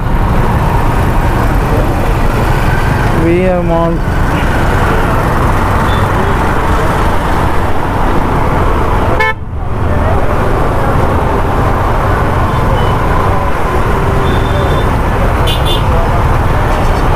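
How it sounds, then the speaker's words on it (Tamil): Heavy city road traffic rumbles along a busy Chennai street near metro flyover construction, a constant roar of cars, buses and trucks with a passing horn, while someone speaks over it. "இந்த மெட்ரோ மேம்பாலம் நடக்கிறனால இவ்வளோ டிராஃபிக் ஆகுது"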